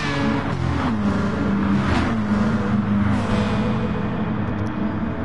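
Race cars on the Tokyo Expressway in a racing video game, a steady engine drone with rising and falling revs as several cars battle closely, continuous and fairly loud throughout.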